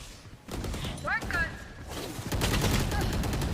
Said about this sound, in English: That was a lot of extra bullets there